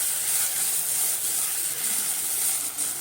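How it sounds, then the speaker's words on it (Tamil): Mudakathan greens are sautéed in a pan for rasam, giving a steady, even sizzling hiss that continues throughout without talk. "சேர்த்து நல்லா வதக்கிக்கோங்க."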